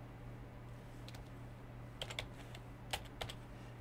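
Sparse clicks of typing on a computer keyboard during FileMaker Pro work, a few quiet isolated keystrokes and a short burst, faint against a steady low electrical hum.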